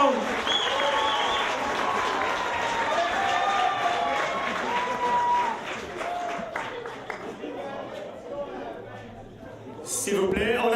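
Applause from the audience of a French-language variety show closing a performance by a duo, steady dense clapping that fades slightly toward the end, with crowd voices mixed in.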